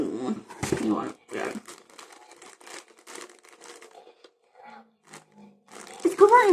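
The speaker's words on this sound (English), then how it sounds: "It's covered in bubble wraps." Bubble wrap on a toy inside a mystery box is crinkled and pulled apart in intermittent crackly bursts, with quiet pauses between them and a louder burst of handling noise at the end.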